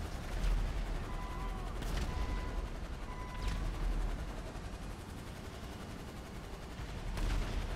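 Gunfire in the video game GTA 5 during an alien invasion in Los Santos: a dense, ongoing barrage of distant shots and bursts, with a few sharper cracks standing out.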